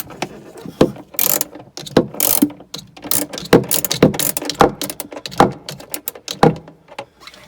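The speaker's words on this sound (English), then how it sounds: "I've put the 10mm socket onto the end of the extension. So I'm going to undo those 3." A ratchet fitted with a 10mm socket on an extension undoes bolts on an Audi A4 Cabriolet roof: loud, close clicking in bursts with short pauses, plus metallic knocks, and no voices.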